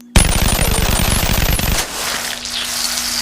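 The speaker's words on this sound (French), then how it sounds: "maintenant on va tester les balles" Rapid automatic gunfire from a violent weapon in a Wolverine and Deadpool video game, a loud fast stream of shots lasting about a second and a half, then cutting off to a lingering tone and room noise.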